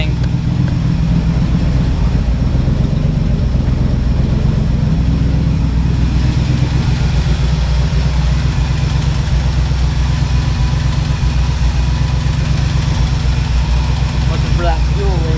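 Ford Bronco 351M V8 idling on bad fuel, a steady, loud low rumble that holds evenly throughout with no breaks.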